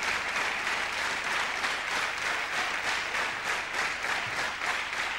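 A crowd at a 1993 men's squash Super Series Finals match breaks into sustained, even applause, a dense wash of clapping that carries on steadily from start to finish without any talk over it.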